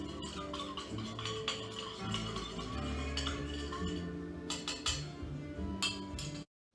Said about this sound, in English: what you want to do is stir those two together